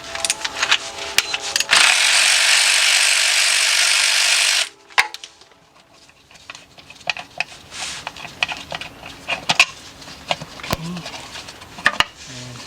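A ratchet working a 14mm bolt out of an inspection cover on a Kia/Hyundai engine during timing chain replacement, heard as a loud sustained burst followed by scattered metallic clicks and handling noises.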